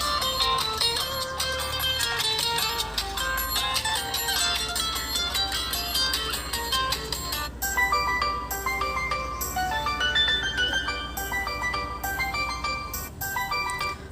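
A Tecno Spark 7 Pro plays a ringtone through its single speaker: a bright, continuous melodic tune that keeps a steady level throughout, with no voices.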